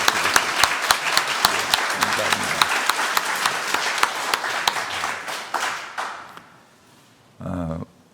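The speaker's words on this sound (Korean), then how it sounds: "한번 크게 다시 한번 박수 줄까요?" Church congregation clapping at a founding anniversary Sunday service, a dense wash of applause that runs for about six seconds, fades out, then a brief voice or instrumental burst near the end.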